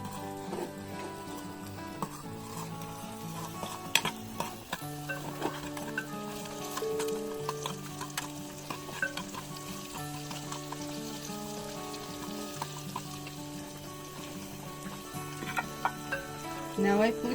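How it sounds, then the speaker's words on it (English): Garlic sautéing in a pan for a rice dish from Goiás, a steady sizzle with occasional stirring clinks running continuously under a busy kitchen background. "Now I put the garlic. Saute the garlic."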